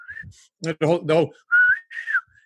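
A person whistles, imitating a ship captain's whistle with rising and falling tones, alongside a short burst of talking in the middle.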